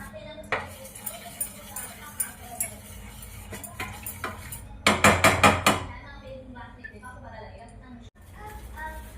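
A spoon scrapes and knocks against a pan as a besan sweet mixture is stirred together with sugar syrup. The sharp clinks come irregularly, with a quick cluster of strokes partway through, while someone talks.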